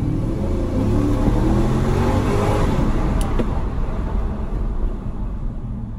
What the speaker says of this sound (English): Really good, beautiful V8 sound.